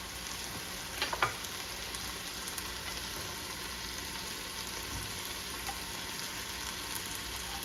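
Steady sizzling of steak and vegetables frying for pepper steak in a hot pan, a continuous crackle with a couple of brief clinks near the start, no talking.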